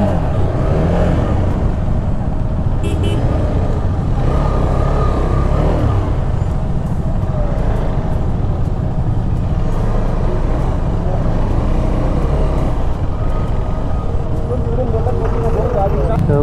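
Traffic jam on a highway with trucks, heard from a motorbike ride, a loud continuous rumble of engines and road noise with wind buffeting, with someone talking over it.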